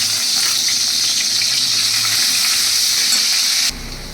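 Ginger and chilli paste sizzles in oil with mustard paste in a pan, a loud, steady, close frying hiss that drops abruptly near the end.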